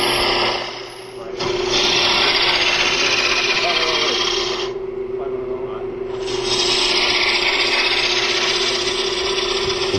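A wood lathe spins a lamp blank down to about 2 1/8 inches in diameter as a roughing out gouge rides along it, giving a steady scraping hiss over a constant motor hum that dips briefly once, with someone talking.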